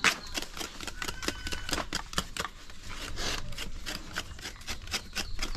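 Hand scraping of food for a traditional Fijian Christmas feast, heard as a steady run of short, dry rasping strokes repeating quickly at close range, with no talk over them.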